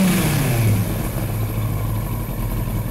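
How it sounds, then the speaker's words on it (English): Engine of a 1998 Yamaha R1 motorcycle with freshly balanced carburetors, given a short rev that holds its speed: a close, steady mid-pitched engine drone with a slight surge at the start. "if I give it a bit of a rev, it then holds on to its RPM for a little bit"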